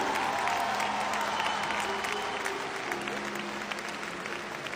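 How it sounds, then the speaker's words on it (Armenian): Concert audience in Gyumri clapping: dense, sustained applause from a large crowd, steady and full throughout with no break. "Եկեք մի հատ ծափերով հասկանանք, Գյումրիից ես շատ, հա։"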